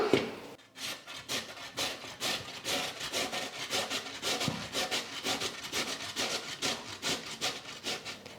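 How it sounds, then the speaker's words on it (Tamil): Peeled potatoes are grated by hand on a vegetable grater, giving a steady run of rhythmic rasping scrapes, close and fairly loud, with no talking. "இந்த மாதிரி காய் துருவுறதில் துருவி எடுத்துக்கலாம்"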